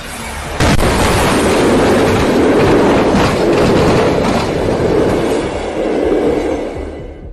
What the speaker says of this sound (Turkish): Demir yolundan tren geçtiği sırada